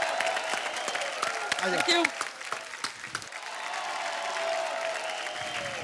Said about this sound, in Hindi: जोरदार तालियां हमारी क्रिकेट टीम के लिए।